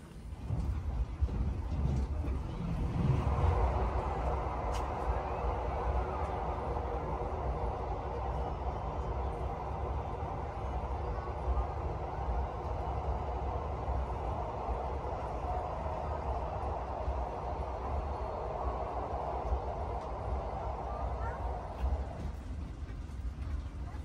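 KA Lodaya economy-class passenger train running in Indonesia, a steady low rumble and rolling hum heard from inside the carriage, quiet and continuous for over twenty seconds with no talk.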